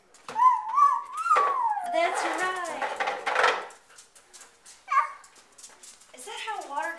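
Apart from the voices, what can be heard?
puppy dog vocalizing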